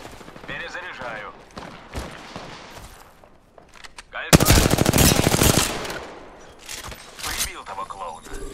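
Automatic gunfire in an online shooter video game: a dense, loud sustained burst of rapid shots stands out after quieter scattered firing, with someone talking over much of it.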